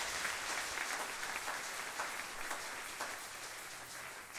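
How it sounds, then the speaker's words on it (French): A church congregation applauding together, a dense continuous patter of many hands that holds steady throughout and fills the room at a moderate distance, with no voices standing out. "Nous allons acclamer la parole de Dieu"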